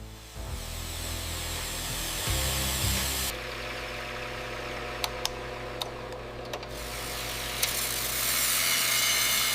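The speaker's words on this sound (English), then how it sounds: "The bandsaw is programmed to cut them into segments of an exact length." An automatic bandsaw in a giant anchor-chain factory cuts steel bars into exact-length segments, a steady droning industrial hum with humming tones, a shift in pitch partway and a few sharp clicks.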